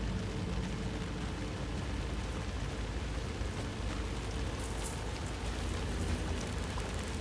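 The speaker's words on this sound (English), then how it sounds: "raining." Steady rain pouring down in Alan Wake 2, a dense continuous hiss of drops on surfaces with no voices.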